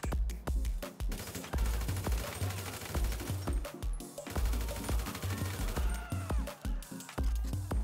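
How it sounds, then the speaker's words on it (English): Assault rifle gunfire in the FiveM mod of GTA V, repeated sharp bursts of shots with brief pauses between them, punchy and close, set over a steady game background. "So I'll be using assault rifle over here."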